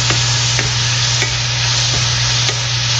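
Chicken curry in Maranao style is stirred in a hot pan, a steady broadband sizzle of frying with soft scraping strokes recurring about every half second, close and loud, with no talking.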